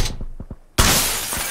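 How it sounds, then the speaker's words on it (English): Glass shattering in a video game: one loud, sudden crash of breaking glass that keeps up a bright, scattering spray for most of a second, after a few short thuds. "I broke this glass twice."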